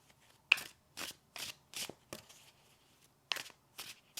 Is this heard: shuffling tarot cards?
yes